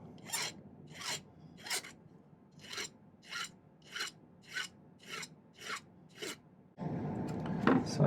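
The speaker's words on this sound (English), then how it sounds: "Do the filing now." A hand file works a silver pendant in about ten short, bright rasping strokes at an even pace, close and fairly quiet, before a louder steady hiss takes over at the end.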